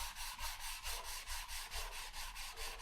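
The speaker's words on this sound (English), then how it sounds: "I'm just sanding out the marks from the 320 grit I used earlier than that." Steady rhythmic sanding of wood on an acoustic guitar kit with fine sandpaper, a soft scratchy rasp repeating back and forth about every third of a second, close and quiet.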